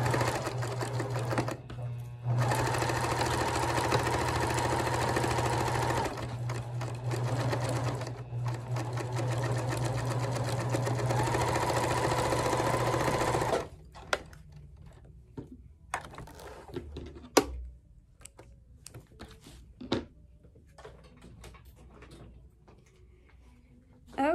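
A sewing machine stitching fabric scrap strips whirs loudly and steadily in two long runs, then stops, followed by scattered clicks and handling noises.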